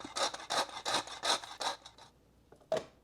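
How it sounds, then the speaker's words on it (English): Freshly ground black pepper in a hand grinder: a series of rhythmic rasping twists, about six close strokes, then a pause and a couple of final scrapes, quiet and close with no talk. "I like to grind my pepper fresh"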